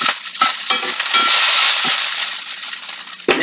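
Potatoes and green onions fry in a skillet, a loud, close hiss of sizzling oil broken by several sharp scraping strokes of a stirring utensil.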